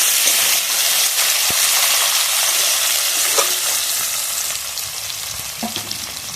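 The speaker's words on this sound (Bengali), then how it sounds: "এখানে টমেটোটাও ভাজা ভাজা করে নেবো" Tomatoes frying with browned onions in a pan for chicken malai curry give a steady, close, loud sizzle with faint stirring scrapes, easing slightly toward the end.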